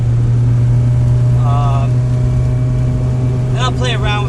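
A Honda Integra lowered about 1.5 inches on new coilovers drives with a steady low engine drone, while a voice talks briefly over it.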